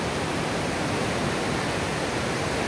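El Chiflón waterfall pouring down a very tall hill, heard as a dense, steady roaring hiss of falling water, continuous and even, with no voices.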